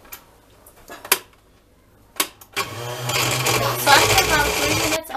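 Blender blending yogurt with ice water for homemade butter and buttermilk, a few sharp clicks and knocks, then the motor starts and runs as a loud steady whir through the second half.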